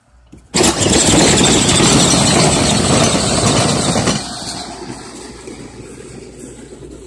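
A kids' Power Wheels ride-on car rigged to run on a car battery starts abruptly with a loud steady whirring drone that drops to a softer hum after a few seconds.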